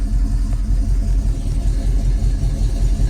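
An Oldsmobile 403 V8 idles rough and loud close by, a continuous low rumbling throb with no talking.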